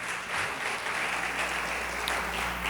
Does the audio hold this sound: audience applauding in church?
yes